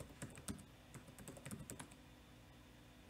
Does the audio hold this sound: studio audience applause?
no